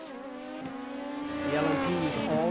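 A Lamborghini GT3 race car engine revs up loudly in a racing game at the Barcelona circuit. Its pitch climbs steadily with a faint tire squeal, under a commentator's voice.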